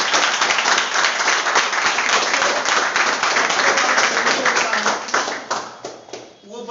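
Loud, dense applause from a crowd at a parents' meeting, sustained and then thinning into scattered claps at the end.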